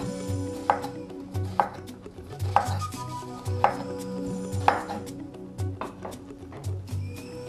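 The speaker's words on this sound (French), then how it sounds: "Alors maintenant nous allons découper des oignons également en tout petit morceau." Onions being chopped into small pieces for a Cameroonian mushroom egusi soup, a knife striking a cutting board in steady, evenly spaced thuds about once every second, close and clear over faint kitchen background, no talking.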